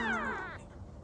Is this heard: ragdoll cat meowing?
yes